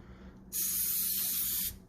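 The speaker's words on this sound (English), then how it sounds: "Spray the inside of your slide." A single steady burst of aerosol cleaner sprayed onto a Taurus TH9C pistol slide, a loud close hiss lasting just over a second before cutting off.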